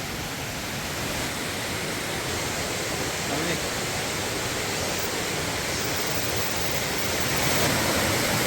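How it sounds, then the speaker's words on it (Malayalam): A strongly flowing waterfall hidden along a rough forest trail in Kozhikode, Kerala, roars as a steady, dense, loud wash of rushing water that fills the whole stretch without letting up. "നല്ല ഒഴുക്കുള്ള വെള്ളച്ചാട്ടമാണ്"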